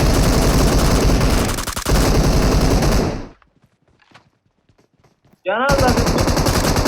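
Automatic weapon fire in the mobile game PUBG Mobile rattles out in long, loud, dense bursts. It stops suddenly, leaving a few seconds of near silence with faint clicks, and then the heavy firing starts again.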